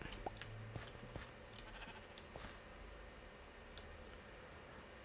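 Sheep in Minecraft give faint, soft bleats amid a quiet ambient game backdrop with scattered light clicks and ticks, the calls short and sparse rather than continuous.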